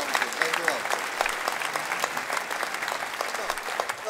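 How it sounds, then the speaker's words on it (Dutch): Audience applause at a benefit gala, many hands clapping in a dense, lively burst with some sharper individual claps and faint voices mixed in. "Een groot applaus."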